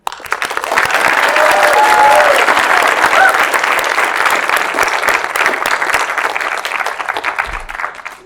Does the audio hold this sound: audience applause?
yes